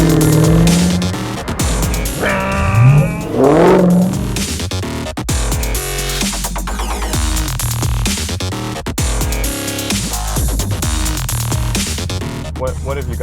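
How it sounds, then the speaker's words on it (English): 2018 Dodge Challenger with the Demon package accelerating hard, a loud, rough engine roar that surges in several rising bursts, with people talking over it inside the car. "This is a 2018 Challenger. It's a Demon package."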